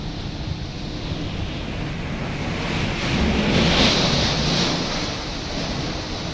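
Water rushes continuously into a cave by the Rameshwar Mahadev temple at Girnar, Junagadh, a steady hiss-like flow echoing in the space that swells briefly louder midway before settling back.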